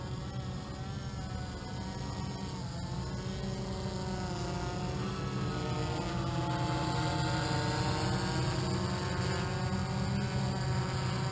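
Steady whirring drone of a DJI F550 hexacopter flying nearby, a continuous buzzing motor tone with shifting pitch as it maneuvers, no talking.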